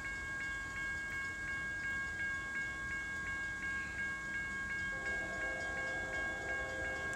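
An empty CSX grain train led by three EMD SD40-2 diesel locomotives rolls past northbound at a steady pace, with rhythmic wheel clicks on the rails and a constant engine rumble underneath.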